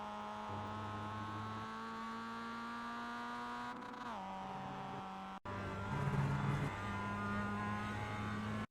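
Simulated Mazda MX-5 race car at Oran Park in iRacing, engine droning steadily and climbing in pitch as the throttle opens, with a gearshift dip midway and a louder, harsher second pull, no voices.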